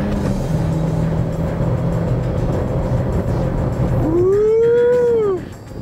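A Renault Sandero RS engine drones loud and steady while lapping a racetrack in Curitiba, then its note swings into a rising, whining sweep as the car shifts into fifth gear, and falls away at the end.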